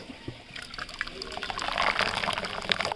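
Taro and prawn lentil soup (dal) ladled out, a wet, sloshing pour that swells toward the middle and stays close and moderately loud, with faint voices in the background.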